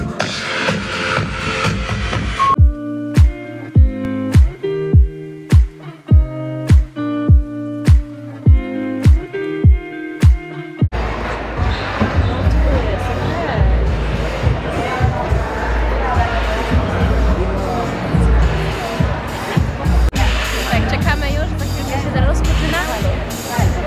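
Loud music pounding at a fashion week show in Italy: a steady run of evenly spaced thumping beats for about ten seconds, then dense full music with crowd noise and voices talking over it.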